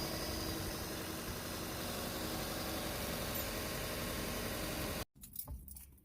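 A Subaru Legacy GT engine idles while warming up at its first start after being revived. It makes a loud, steady, close drone for about five seconds, then cuts off abruptly to faint background noise.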